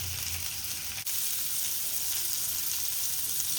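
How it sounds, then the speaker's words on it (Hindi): Paneer tikka frying in hot oil while being turned on all sides, a steady close sizzle throughout with a brief dip as the pieces are moved, no talk. "इसे चारों तरफ से पलटकर हमें पकाना है"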